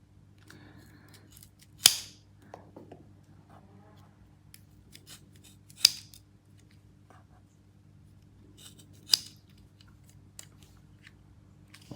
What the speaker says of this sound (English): We have the scissors.